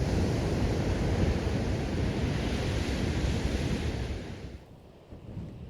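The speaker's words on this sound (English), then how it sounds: "This is called Piper's Hole, and the waves come thundering in." Waves thunder into Piper's Hole, a rocky sea inlet on a small island, as a loud continuous surf roar close by with wind buffeting the microphone, easing slightly near the end.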